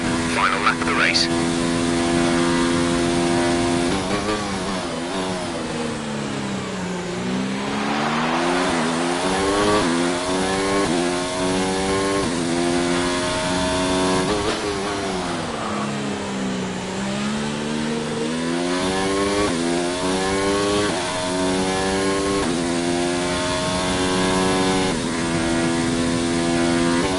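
Formula 1 cars racing at the Hungary circuit in the F1 2019 game, engines whining and sweeping through rising and falling revs nonstop, loud and close, with talk over the top.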